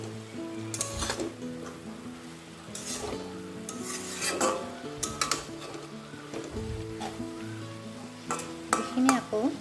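Mustard seeds frying in a pan with jackfruit seeds and pumpkin leaves, stirred steadily. Repeated close scraping and clattering strokes over a soft sizzle, with faint voice-like tones in the background.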